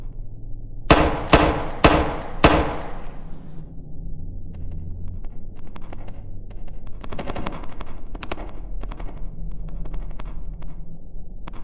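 Gunfire in a zombie apocalypse game scene, with four loud, sharp shots in quick succession at the start, followed by a rumbling burst of scattered firing and a few further cracks over a steady low background.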